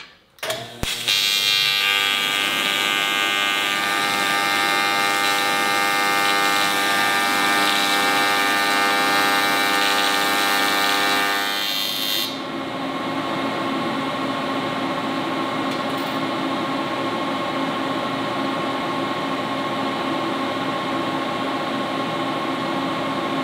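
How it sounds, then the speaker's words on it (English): A Miller Syncrowave 210 welder running on a scrap aluminum plate gives a loud, steady electrical buzz and hiss for about twelve seconds, then drops to a quieter sustained hum. "this is about to be an actual welding test on a scrap aluminum plate"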